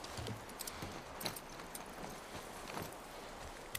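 A horse's hooves clip-clop steadily in The Last of Us, a soft, rhythmic patter of hoofbeats over a constant hiss of ambient game sound, faint and without speech.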